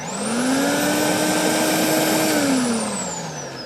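A lawn verticutter runs steadily with a loud, even vacuum-cleaner-like whine and hum, then winds down in pitch toward the end as it cuts off.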